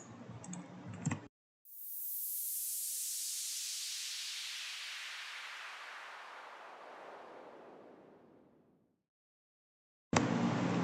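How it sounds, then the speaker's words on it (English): Synthesized noise like a steam release bursts in loud and bright, then hisses downward and fades gradually over about seven seconds to silence, set between short bits of keyboard-like clicking. "it's kind of letting some steam off, letting the air out"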